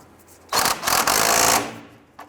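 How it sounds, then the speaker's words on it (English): Tightening a castle nut on the outer tie rod of a 1994-2004 Ford Mustang gives about one second of rapid, rattling power-tool buzz up close, followed by a faint tap. "Let's tighten down our castle nut."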